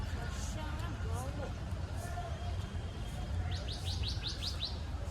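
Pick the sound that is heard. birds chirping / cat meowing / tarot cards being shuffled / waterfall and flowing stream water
birds chirping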